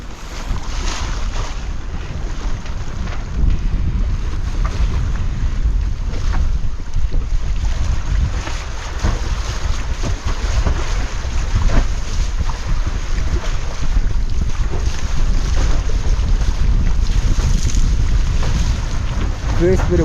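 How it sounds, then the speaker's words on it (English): Strong wind roars continuously across a sailing catamaran at sea with the staysail out, buffeting the microphone, while water rushes along the hull beneath, loud and unbroken throughout. "Got some wind at last."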